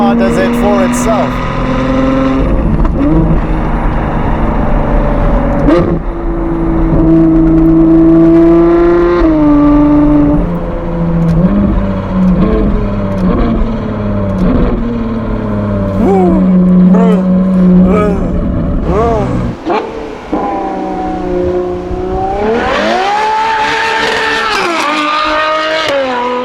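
A Novitec Ferrari 812 GTS fitted with the N-Largo exhaust roars loudly and close, its V12 revving up and down through repeated gear changes, with sharp pops and crackles and a final howl in a tunnel.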